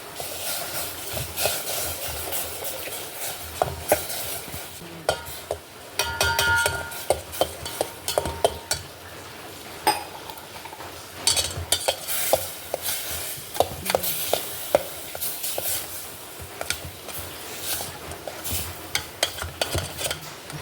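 Semolina (rava) roasting in a spoonful of oil in a pan while a spatula stirs it, giving a steady soft hiss broken by frequent scraping clicks and taps throughout.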